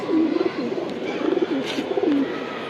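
Pigeon of a racing (paalla) loft coos in repeated low, rolling phrases, close and fairly loud, three or four bursts over a light background hiss with no talking.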